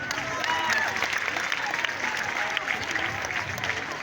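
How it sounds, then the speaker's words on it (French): Students applaud at a school ceremony welcoming new sixth-grade and tenth-grade pupils, a dense, steady crowd clapping that holds at an even level throughout, with a hint of voices mixed in. "vous pouvez vous applaudir"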